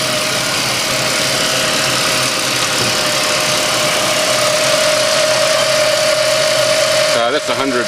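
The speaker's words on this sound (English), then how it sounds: "That's 190 kilowatt fuel injected 6 that is in these models." The 190 kW fuel-injected six-cylinder engine of a Ford Falcon BF Mark 2 ute idles with a steady, close, even hum and low rumble, and a voice comes in briefly near the end.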